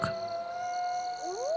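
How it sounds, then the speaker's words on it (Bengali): A jackal's long, thin, wavering howl rises and holds, then a second call slides upward, distant and eerie over a quiet night background. "দূর থেকে শোনা যাচ্ছে শেয়ালের ডাক"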